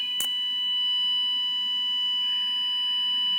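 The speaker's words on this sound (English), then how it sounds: "Is that the fire alarm?" An electronic fire alarm tone sounds in a conference room during an aircraft pre-purchase inspection seminar, a steady high pitched pulse held throughout the clip after a brief click at the start, moderately loud with a faint room murmur beneath.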